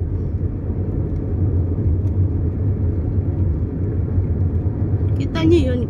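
A steady, loud low rumble of road traffic and engine noise, with a fast car passing close by, and a brief squeak near the end.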